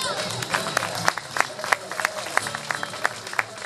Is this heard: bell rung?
no